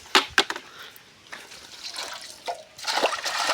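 Water poured from a bucket into a smaller pail for a cow, heard as a few sharp splashes early on, then a steadier trickling and splashing pour that grows louder toward the end.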